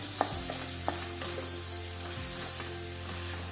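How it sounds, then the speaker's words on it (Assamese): Steady sizzling of dried red chillies frying in a pan, with a few sharp clinks of a utensil stirring near the start and again midway. "এয়া মই ভালদৰে ধুনীয়াকৈ ভাজি ল'ম।"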